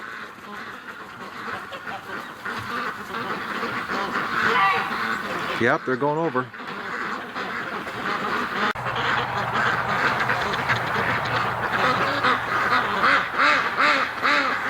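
A noisy flock of ducks quacks continuously on an icy winter expanse where open water is frozen over, the calls dense and fairly close, with someone talking briefly over them.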